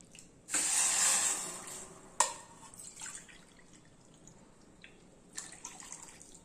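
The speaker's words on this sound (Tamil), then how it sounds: "இப்போ நம்ம தண்ணி ஊற்றிக்கலாம்" Water pours steadily into a pan of jaggery for sweet kozhukattai for a couple of seconds, then stops. A sharp clink and a few light knocks and clatters follow.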